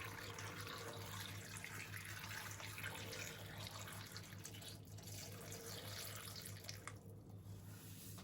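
Soaked black olives are rinsed under a running kitchen tap, with water pouring steadily into a sink for the whole stretch, a constant splashing rush with no talk.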